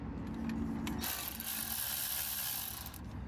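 Ratchet clicking as it loosens a 10 mm bolt on the ABS sensor bracket of a Chevrolet Silverado front wheel hub, a steady quick run of close, faint pawl clicks with mechanical noise and no talk.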